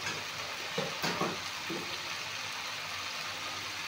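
Silver fish fries in a pan with bhol, a steady oily hiss with a few soft thuds and clatters early on as pieces settle, then a continuous sizzle alone.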